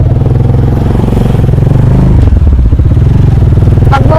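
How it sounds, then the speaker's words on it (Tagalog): A motorcycle engine runs loud and close, a steady throbbing idle that rises into a rev with some clattering mechanical noise. "magmumotor siya guys"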